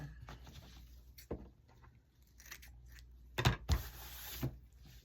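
Scrap styrofoam pieces being trimmed for a door swag, with a few sparse, dry cutting and rubbing scratches in short separate bursts against a quiet room, sharpest near the end.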